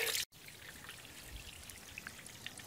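Water from the only spring in a large ravine at about 850 m in the Transylvanian mountains trickles and patters steadily, a soft continuous burble with no talk.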